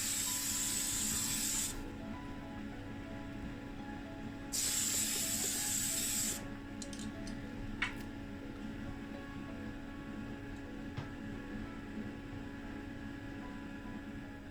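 Two bursts of aerosol spray paint hiss loudly and close as one coat goes onto a 1959 Plymouth Sports Suburban Corgi model car, followed by quiet handling clicks and faint background hum.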